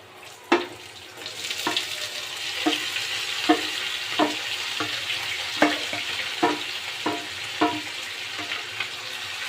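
Onion and garlic fry in oil in a pan while being stirred, making a soft continuous sizzle broken by regular scraping strokes roughly every second, close and fairly quiet.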